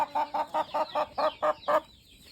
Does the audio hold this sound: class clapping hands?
no